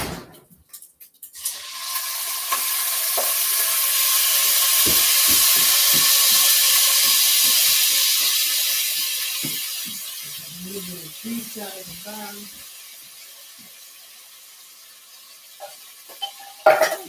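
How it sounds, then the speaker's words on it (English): A pot on a home stove hisses and sizzles, the steamy rush swelling and then fading, with scattered pops and the clink of a utensil stirring near the end. "Let me put this in my pot because my pot is popping"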